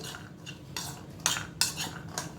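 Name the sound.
mixing chaat ingredients with salt and lemon juice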